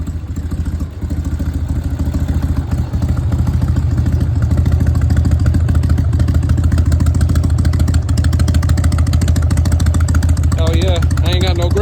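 A 1988 Harley-Davidson Softail motorcycle engine runs steadily and loudly throughout, a continuous low rumble that swells slightly in the second half, with a person talking over it.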